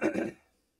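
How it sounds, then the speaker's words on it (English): A man clears his throat once, a short rough rasp that fades quickly into silence, heard close and alone. "I know it's like super annoying to clear my throat"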